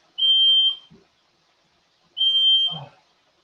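A smoke alarm set off by kitchen steam sounds two long, loud, piercing beeps, each about half a second, separated by a pause of over a second, with faint shuffling noises after each.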